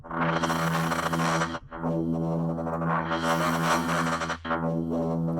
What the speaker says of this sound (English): So we get these really kind of nice random little fluttery bits to the sound.